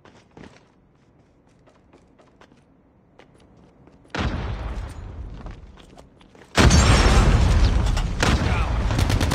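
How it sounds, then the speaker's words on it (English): A grenade blast in the Call of Duty: Mobile shooter during a ranked Search & Destroy match, arriving as a sudden loud, broadband boom after quieter clicks and steps, followed by a second, even louder sustained burst of explosion and gunfire-like noise. "Grenade out!"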